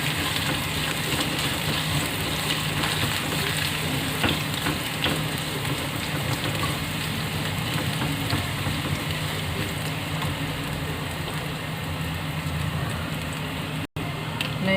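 Ingredients sautéing in a pan for a vegan stir-fried watercress dish, giving a steady, even sizzle that continues unbroken at moderate volume throughout.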